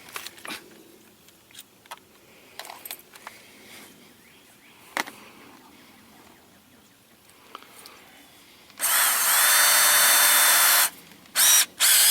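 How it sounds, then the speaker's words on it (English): A power drill bores holes while a power window kit is fitted to a 1997 Geo Tracker. After a quiet stretch of small clicks and handling, a loud, close whine runs for about two seconds, followed by two brief bursts. "so I have to drill this one first"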